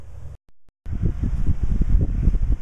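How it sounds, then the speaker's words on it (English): Gusty wind buffets the microphone with low rumbling bursts outdoors during metal detecting, briefly cutting out before returning stronger. "It's pretty windy out"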